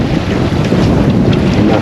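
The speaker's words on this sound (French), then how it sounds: "d'un seul coup le vent a monté" Wind rising over a sailboat at sea, a loud constant roaring rush buffeting the microphone, with water noise beneath and no letup.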